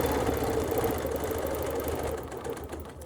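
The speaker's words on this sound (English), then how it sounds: "Line that ruler up against my stitching line and stitch." A sewing machine stitches a quilt with a steady, fast mechanical whirr and a rhythmic needle clatter, running continuously and then easing slightly toward the end.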